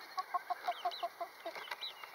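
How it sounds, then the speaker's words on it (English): Game hens cluck softly in a quick series of short, close notes, with a few higher chirps mixed in toward the end. "he made it all the way to the top, where the game hens are at right now"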